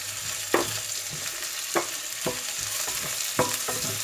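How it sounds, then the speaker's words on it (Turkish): Washed red lentils and potatoes sautéing in a pan for strained lentil soup: a low sizzle under repeated scraping strokes of a spoon stirring at an irregular pace. "Şimdi yıkadığımız, iyice yıkadığımız mercimeği ekliyorum ve az çok az da bununla birlikte kavuruyorum."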